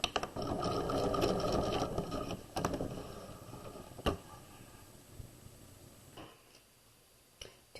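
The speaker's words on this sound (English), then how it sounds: "When we get to the end, we'll back stitch." A sewing machine back stitching the end of a seam on a tote bag handle, heard as a close, fast mechanical whirring run that slows into softer intermittent stitching, with a few sharp ticks and clicks.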